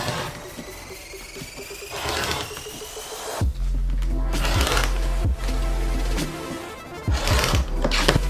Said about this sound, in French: j'ai préparé mon cutter et ma règle et on est parti pour la découpe